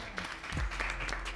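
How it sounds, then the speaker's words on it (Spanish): Fairly quiet audience applause at a talk, soft scattered clapping with a low thump partway through. "yo quiero pedirle un aplauso para Joaquín"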